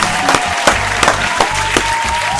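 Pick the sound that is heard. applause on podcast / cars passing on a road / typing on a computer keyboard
applause on podcast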